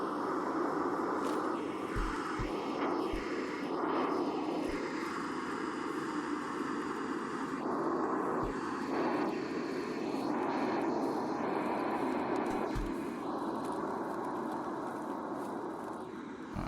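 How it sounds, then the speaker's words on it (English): Airdrop plane in the video game Escape from Tarkov flies over, a steady droning engine rumble that swells and fades slowly, with a few sharp in-game clicks and thumps nearby. "as you can hear, the airdrop plane is coming in."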